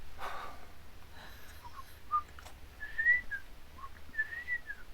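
Someone whistles a few faint, wavering notes of the Andy Griffith Show theme, breathy and thin, with soft background noise and no talking.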